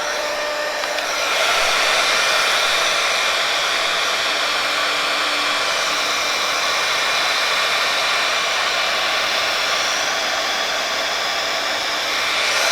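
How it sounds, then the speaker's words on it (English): A heat gun roars steadily as it melts a broken plastic rolling cart wheel, a loud close blowing hiss with a faint whine that starts at once and holds throughout. "So I'm going to use a heat gun, and I have my heat resistant gloves on to see if maybe I can have it melt back together."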